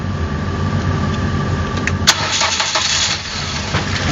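A 2007 Ford Focus SES with a 2-litre engine that starts with difficulty and won't rev up cranks and catches nearby, then settles into a rough, steady idle.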